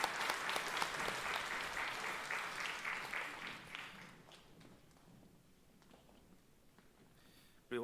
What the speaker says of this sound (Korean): 하나님 앞에 크게 영광의 박수 올려드리겠습니다